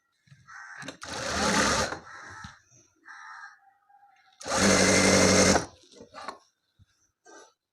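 Sewing machine stitching the side seam of cigarette pants, two long loud whirring bursts of motor and needle with quieter short stitching runs and handling noises between them.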